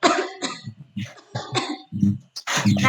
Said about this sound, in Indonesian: Misalnya kalau batuk